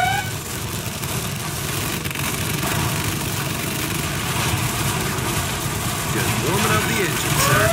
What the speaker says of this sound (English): Warming up the engine, sir.